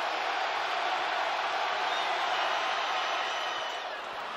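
Basketball crowd at Cassell Coliseum during Duke vs Virginia Tech, a broad steady roar of many voices filling the arena, loud and unbroken, easing slightly at the end.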